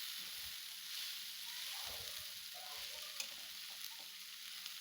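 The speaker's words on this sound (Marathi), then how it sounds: "आता या फोडणीमध्ये आपण कोबी छान असा परतून घ्यायचा आहे" Steady frying sizzle with stirring scrapes, a continuous hiss of cabbage stir-frying in hot oil, close and moderately loud, no voices.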